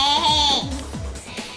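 A sheep sound effect, likely from a Star Monsters toy, gives one wavering bleat up close, then softer bleating tails off at the end.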